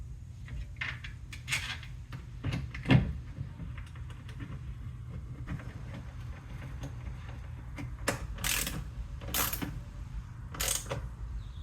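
A longer screw is driven into a speaker mount inside the door of a 2024 Chevy Equinox/Blazer EV, giving quiet scattered clicks, creaks and small metallic ticks over a low background hum.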